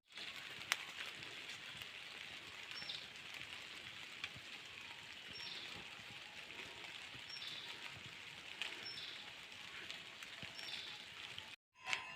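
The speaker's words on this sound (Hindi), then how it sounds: "अभी यहाँ बारिश भी लगने लग गई है" Light rain falls in a soft, steady patter outdoors on a mountain path, with occasional faint chirps in the background and a brief drop in sound near the end.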